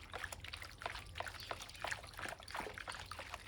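Water trickles and sloshes in a gold pan as black sand is panned, a faint series of soft, irregular splashes and drips spaced through a few seconds.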